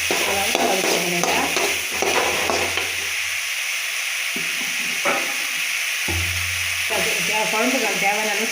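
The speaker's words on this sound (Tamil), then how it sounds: "வாழைக்காய் வதக்கிக்கணும்." Raw plantain pieces sauté in a pan for a village-style egg curry, a steady sizzle and fry hiss with intermittent scraping stirs of a spoon, close and continuous under occasional speech.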